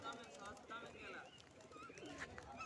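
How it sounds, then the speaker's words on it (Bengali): Pigeons coo softly at a distance in front of the Gangasagar temple, faint and low beneath a murmur of voices and outdoor ambience. "দেখছেন মন্দিরের সামনে কত পায়রা উড়ে বেড়াচ্ছে"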